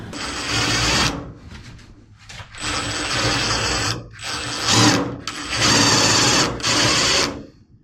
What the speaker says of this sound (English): Couple of these button screws with the drill points and a screw gun